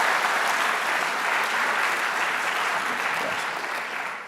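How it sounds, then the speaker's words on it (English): An audience at an evening astronomy lecture applauds, a dense steady clapping that holds for several seconds and then begins to taper off. "let's give them a round of applause"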